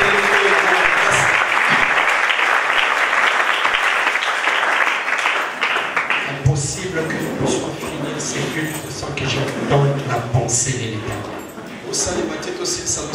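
A church congregation applauds the Lord, sustained loud clapping and crowd noise that fades and thins into scattered claps while a voice speaks over it.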